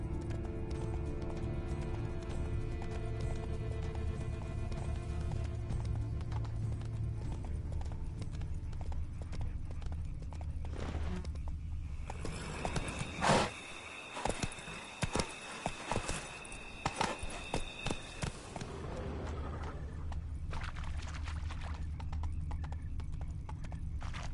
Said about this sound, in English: Horses must have gotten spooked.